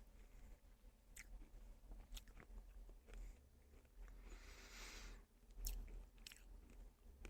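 Close, quiet chewing of food by a person, a soft steady run of wet crunching bites over several seconds with no talk.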